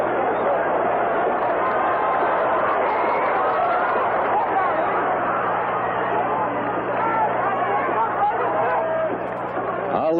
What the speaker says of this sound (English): the crowd will yell whenever Lubbers either strikes a blow or appears to land with a blow